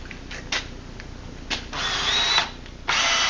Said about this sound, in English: it's okay to use a cordless drill